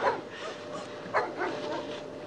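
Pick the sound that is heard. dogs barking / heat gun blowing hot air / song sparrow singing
dogs barking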